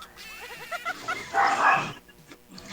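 A dog barks outdoors: a quick run of short yips and whimpering barks close by, then a louder rough yelp, with a quieter bark following after a short gap.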